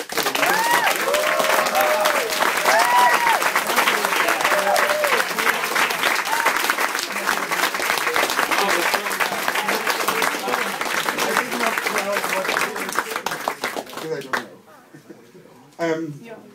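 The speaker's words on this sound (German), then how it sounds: "das muss nochmal den fettesten Applaus kriegen" Audience applause for Ariel rolls on loud and dense for about fourteen seconds with voices calling out through it, then drops away abruptly, leaving a few scattered claps and a brief final burst.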